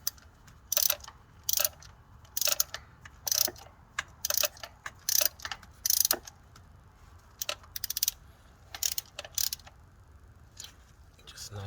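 Ratchet wrench clicking in short repeated bursts as a spark plug is tightened back into an engine while fixing an ignition coil misfire, close and crisp with brief pauses between strokes.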